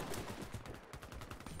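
Rapid automatic weapon fire from a gun in the shooter game Warface, a dense, steady burst of repeated shots sustained throughout at fairly close range.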